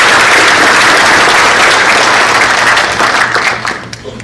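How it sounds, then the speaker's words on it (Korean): A large crowd at the closing ceremony of the 24th Honam Conference general assembly gives loud, sustained applause that stays thick and even, then thins into scattered final claps near the end. "박수를 한번 부탁드립니다"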